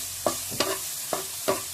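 Ginger, black pepper, onion and garlic sauté in a pan for adobo, with four distinct scraping stirs of a spatula spaced evenly over a soft, steady background sizzle.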